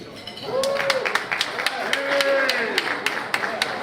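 Scattered audience clapping crackles with sharp, irregular claps that build into light applause, heard under a person speaking.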